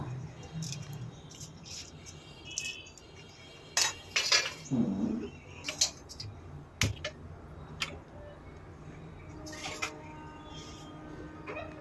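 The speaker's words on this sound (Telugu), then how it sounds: "సో ఎగ్ ఫ్రైడ్ రైస్కి నేను ఇప్పుడు ఈ ఆనియన్స్ అన్నీ కూడా కట్ చేసుకుంటూ ఉన్నాను" Onions being chopped on a board for egg fried rice, a series of sharp, close knife taps and clicks in an uneven rhythm, with a few louder strikes and brief pauses between cuts, no talking.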